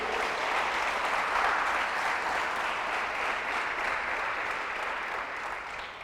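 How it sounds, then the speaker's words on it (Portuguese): A church audience applauds stay-at-home mothers, a dense, steady wash of clapping that carries evenly for several seconds and eases slightly at the end. "Dá um aplauso às mães que são do lar aí."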